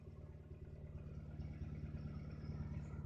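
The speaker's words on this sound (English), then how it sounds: "She's idling a little high." A Honda car engine idles slightly high after an AC compressor bypass, with a steady, faint rhythmic chug and a light clatter from close by.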